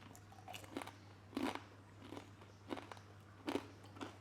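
Someone bites into and chews crunchy oven-baked tortilla chips close up, giving a series of crisp, crackling crunches at an uneven pace, with softer chewing between louder bites.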